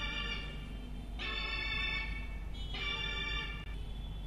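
Synth melody for a beat at 155 BPM, bright sustained chords in two repeating phrases over a low steady hum, faint and alone.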